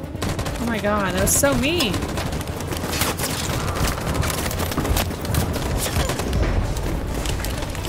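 Dense gunfire and fusillade bursts from the video game Detroit: Become Human, rattling continuously and loudly through the whole stretch, with a voice talking over the shooting near the start.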